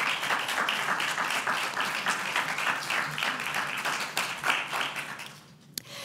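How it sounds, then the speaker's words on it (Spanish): Audience applause for a group of digital artists being introduced at a talk in Barcelona, dense steady clapping from a crowd that fades out near the end, with a single sharp knock. "Un aplauso para ellos."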